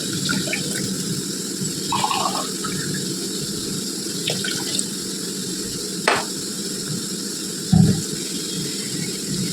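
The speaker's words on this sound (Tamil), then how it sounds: "இதை தண்ணி விட்டு கிளறி விடுங்க." Water poured into a cooking pan over a thick, simmering prawn biryani masala makes a steady, close rushing splash, broken by a few brief clinks and knocks, with no talking.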